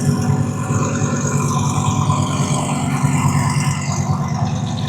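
A twin turbo Audi R8 at a street car drag racing event revs loudly nearby, a dense continuous engine roar with fluctuating pitch.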